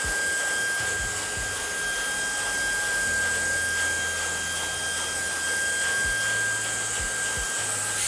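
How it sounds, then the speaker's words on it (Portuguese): A handheld hair dryer blows steadily and fairly loud throughout while a brush turns through a man's hair during a haircut and styling session, its airflow hiss constant with faint low bumps from handling. "Agora o secador na mão invertida, a escova também, mas entra, gira, para dar tensão, dá calor e sai."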